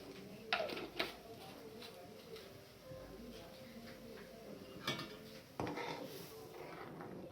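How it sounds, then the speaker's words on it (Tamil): Butter eggs being stirred in a pan, with a run of scraping and clattering utensil strokes against metal, close, irregular knocks over a low background, no talk. "இந்த மாதிரி கிண்டிக்கிட்டே இருங்க."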